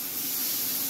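Shrimp placed on a hot pan set up a steady, bright hiss of sizzling that holds evenly for under a second, close and fairly loud, with no voices.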